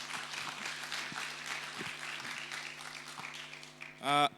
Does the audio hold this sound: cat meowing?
no